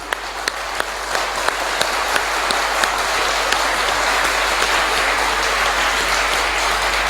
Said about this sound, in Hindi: कमजोर है तालियां आपकी